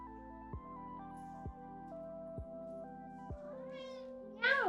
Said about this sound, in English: My cat is very hungry.